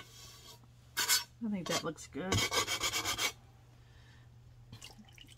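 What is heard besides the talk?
wet sanding pad rubbing bisqued stoneware platter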